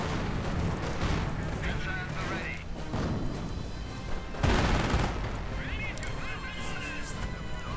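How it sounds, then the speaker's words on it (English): Mortar half-track fire and other artillery boom repeatedly through a video game battle, a dense run of blasts and thuds, with a commentator talking over the top. "Mortar half-track firing away."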